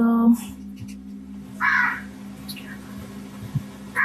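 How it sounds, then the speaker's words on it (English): A crow caws close outside a window, two short harsh calls spaced apart over a steady low hum, with a person talking softly in between. "Did you hear that? That was a crow, right?"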